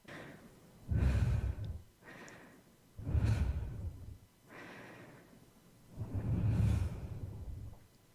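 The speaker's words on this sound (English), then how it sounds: "Why are you breathing right into the mic?" Heavy breathing pressed right against a microphone: three loud, close, rumbling exhales alternate with softer inhales, in a slow, uneven rhythm with no talking.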